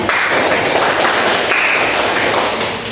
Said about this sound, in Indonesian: Oke, beri tepuk tangan untuk Bida.